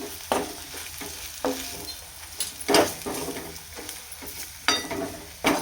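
Masala with red chili powder for a soybean dish is stirred in a pan, several distinct spoon scrapes rising above a soft sizzle at irregular intervals.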